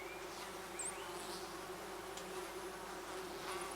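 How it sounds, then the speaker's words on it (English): European wasps buzzing in a forest, a quiet continuous insect drone with occasional higher whines from individuals passing nearby, steady and low in level throughout. "European wasps have also taken a liking to honeydew."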